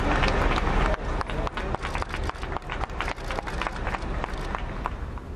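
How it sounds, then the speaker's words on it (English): Polite applause from a small welcoming crowd greeting young refugee men arriving in South London from the Calais jungle camp: steady, fairly close clapping that carries on throughout with uneven bursts. "polite applause."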